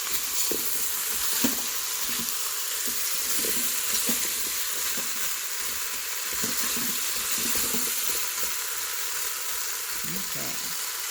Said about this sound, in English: The sizzling sounds are